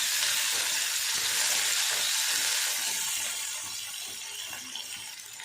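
Half a tomato sizzles steadily in a frying pan while guava-leaf chutney is being cooked, a constant bright hiss of frying that eases slightly toward the end, with no voices.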